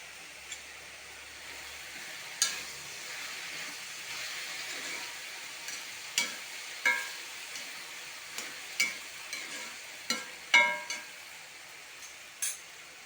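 Tomato frying in a pan for a chembu leaf theeyal, a faint sizzle under repeated light stirring clicks and scrapes at an uneven rhythm.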